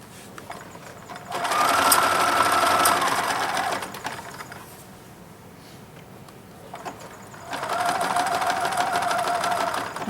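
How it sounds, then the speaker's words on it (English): A sewing machine stitches along a T-shirt rag quilt about an inch from the edge, running in two steady bursts of whirring with a quieter pause between them, close and clear. "I'm going to sew about 1 inch in, as long as I want my fringe all the way around"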